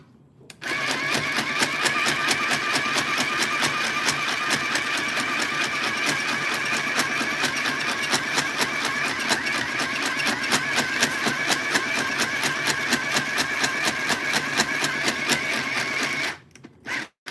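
Sewing machine stitching a plush toy ear, a steady rapid mechanical whir with fast regular needle clatter running loud and close for about fifteen seconds before stopping.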